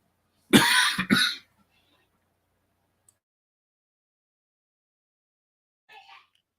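Two sharp coughs close together, loud and near, followed by silence and a faint, brief cough-like sound a few seconds later.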